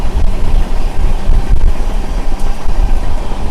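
Loud, steady rumble and rattle from onboard the Garib Rath superfast express, running between Yesvantpur and Secunderabad behind a WAG-9 locomotive, a continuous low roar filling the carriage with no voices.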